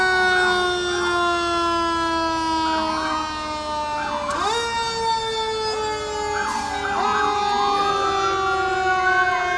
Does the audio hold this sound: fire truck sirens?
yes